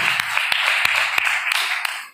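A meeting audience at a business opportunity event claps together, a dense, steady wash of applause lasting about two seconds with a few sharper hand strikes standing out.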